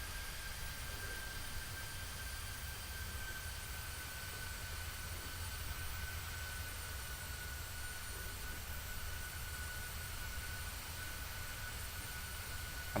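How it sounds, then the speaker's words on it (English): Airbus A320neo jet climbing after takeoff in a flight simulator game, heard as a steady broadband engine roar with a thin high whine, constant and unbroken, with no talking. "The A320neo's taken off."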